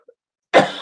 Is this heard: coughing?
yes